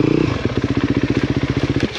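A 2023 Honda CRF 250R dirt bike engine runs close by with a fast, choppy four-stroke pulse, steady rhythmic thumps with a brief rise at the start and slight changes in pace, loud and alone.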